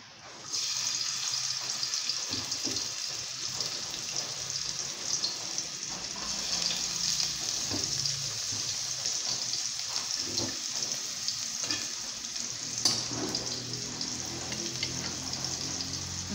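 Garlic sizzles steadily in hot oil in a pan, a constant close frying hiss with faint crackles and a few soft clinks, with no talk over it.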